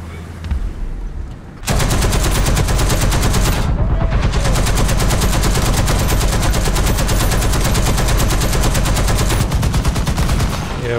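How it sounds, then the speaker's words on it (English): Heavy automatic gunfire in War Thunder ground battle roars as a dense, continuous rapid rattle, loud and close, starting after a quiet moment and briefly pausing before resuming. "Try to avoid the shots that are coming at us."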